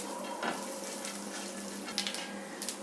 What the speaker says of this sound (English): For almost like half or 1 minute, let me saute this chana dal also.